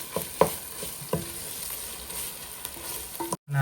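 Pork ribs fry in a pan with a constant sizzle, punctuated by several sharp clanks of a utensil stirring them, before a brief cut to silence near the end.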